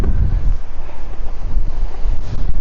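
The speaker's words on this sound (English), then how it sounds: "So today, extremely windy." Strong wind buffets the microphone in heavy, rumbling gusts throughout, with a low roar and no voices, outdoors on Teapot Lane in Guernsey.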